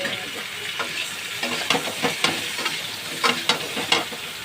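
Washed potatoes frying alongside crisp-fried fish in a pan for a pointed gourd, potato and fish curry, with a continuous close sizzle and several sharp spatula scrapes and knocks.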